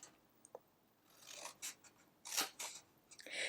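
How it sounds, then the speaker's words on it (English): Scoring lines are cut into a paper box, heard as a few faint, close scraping and snipping strokes in short separate bursts against near silence, with no talking. "So you cut all these scoring lines."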